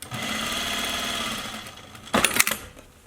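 A sewing machine stitches along an opened fabric seam on a cloth face mask, giving a steady mechanical whir for about two seconds before it stops and a few louder handling clatters follow.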